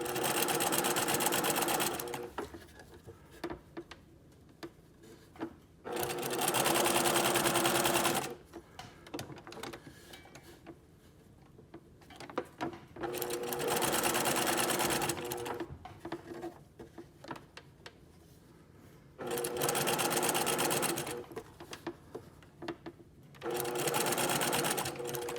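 A sewing machine stitches a seam in bursts of several seconds each, a fast even whirring patter broken by short quiet pauses, fairly close but soft overall.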